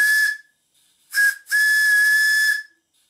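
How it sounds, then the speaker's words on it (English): Steam whistle on a Castle steam boiler running at about 20 psi, sounding three shrill, hissing blasts: a short one, a brief chirp, then a long steady toot, close and loud with no talking. "The whistle works beautifully,"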